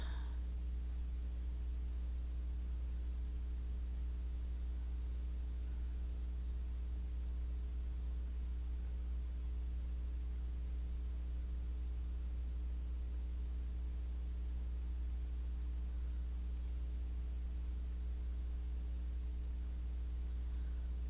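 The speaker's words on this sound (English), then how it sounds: "It's farting a sine wave." Steady low electronic hum with layered harmonic tones, constant and unchanging for the whole stretch, faint hiss above it.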